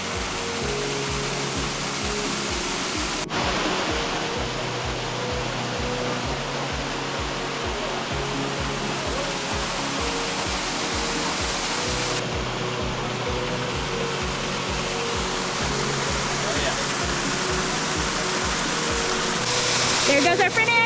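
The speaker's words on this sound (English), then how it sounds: "it's a beautiful waterfall" A waterfall on the Pine Ridge Trail in California rushes as a continuous, loud, close roar of falling water, with people talking faintly beneath it.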